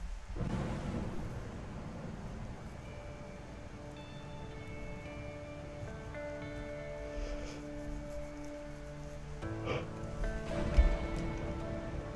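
A thunderstorm in A Way Out rumbles low and steady throughout, with a deeper roll near the start and another swell toward the end, while music and game sounds play over it.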